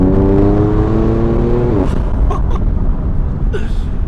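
A BMW M4 engine revs hard and climbs in pitch, then drops away as it shifts, followed by loud roaring and rumbling close by.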